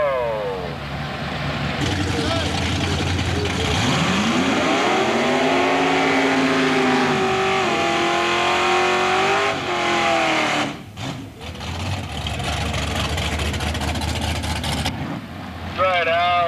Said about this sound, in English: giving up about 3 seconds to Al, and that's a hard-running little Volvo over there.